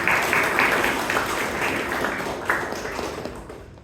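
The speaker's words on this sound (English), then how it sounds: "A big round of applause to the Toastmaster, sorry, the president." Applause from the audience at a Toastmasters club meeting in Bangalore, honoring the club president: a steady wash of many hands clapping that holds for several seconds, then slowly thins and fades toward the end.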